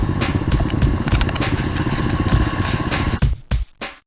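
An SSR 125cc semi-automatic pit bike engine runs close and loud with a steady buzzing putter, then drops into choppy bursts of throttle with short gaps near the end.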